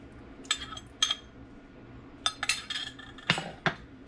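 Metal utensil scraping and clinking against a pan while stirring oil and homemade sauce for a Chinese spicy tofu mushroom dish, in sharp irregular bursts close by with no talking.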